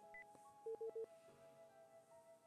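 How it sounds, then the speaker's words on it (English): Touch-tone phone keypad pressed several times, giving a quick run of short, clear dialing beeps against a quiet background. "As an experiment, I pressed the call button."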